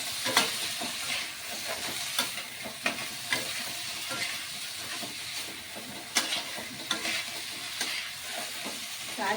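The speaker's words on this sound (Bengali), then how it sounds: "ভাপানো কচুরলতিটা দিয়ে এভাবে নাড়িয়ে দিতে হবে।" Steamed taro stolons are stirred into spice paste frying in a pan, a continuous loud sizzle and hiss with scraping clicks of the spoon at irregular intervals, close up, with no talking.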